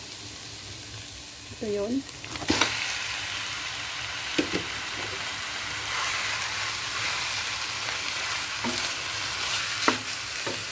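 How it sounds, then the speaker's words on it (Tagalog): Marinated beef fries in a pan with a steady sizzle and a few sharp stirring clanks, while a person speaks briefly over the cooking. "I-fry lang natin ito hanggang sa mag-golden brown."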